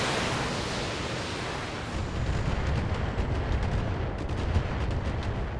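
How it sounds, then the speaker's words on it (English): Missile salvo launched at a Griffin mech in the BattleTech video game, heard as a sustained roaring wash of rumbling blasts with a rapid flutter of launches near the end, loud and with no talk. "we'll drop these missiles on the Griffin"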